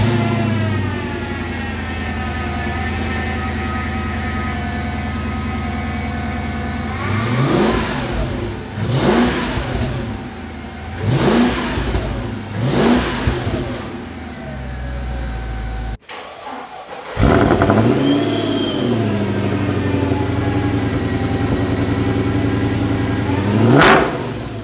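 A Mercedes E55 AMG wagon's cold engine idles steadily, then blips up to about 2,500 RPM in four quick revs, cuts out briefly, and roars back with another louder rev, close and alone.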